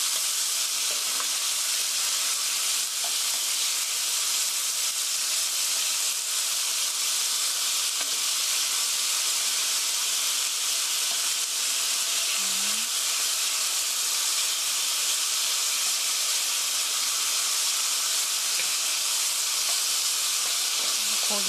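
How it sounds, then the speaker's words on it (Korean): Pork stir-frying with mushrooms in a hot pan, a loud continuous close-up sizzle and hiss that holds steady the whole time, with no talking. "그래서 고기가 하얗게 될 때까지 천천히 뒤집으면서 볶아주세요."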